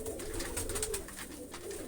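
Pigeons, a flock of about fifteen or sixteen, coo softly and steadily while feeding on scattered chickpeas, a low continuous murmur close by with no talking.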